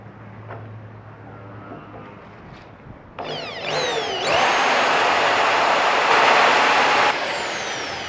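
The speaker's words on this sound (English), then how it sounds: "I can't drill the hole right in the middle because the drill's not long enough" A power drill boring a hole for installing a cow brush whines loudly, starting abruptly and winding up to a sustained high-pitched spin, then easing slightly near the end; no talking.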